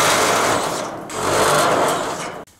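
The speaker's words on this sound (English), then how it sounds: "I'm gonna go through and add more screws to the rest of all these cross braces" A power driver runs in a sustained whirring burst, dipping briefly and then spinning back up, as it drives screws into the cross braces of a salvaged-material solar array frame.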